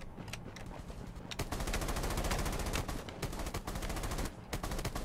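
Rapid automatic gunfire in the shooter game Rules of Survival: dense, repeated bursts of shots crackling in quick succession, fairly faint, with brief pauses between volleys.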